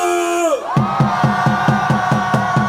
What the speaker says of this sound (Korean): 10대 있다면 전방을 향해 함성!